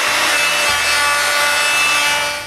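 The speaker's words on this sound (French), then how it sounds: "Donc pour faire ça, je vais utiliser une mèche à copier." A wood router fitted with a flush-trim copying bit cuts a workshop door in a continuous loud, high whine, with the cutting noise running steadily and close, no talking.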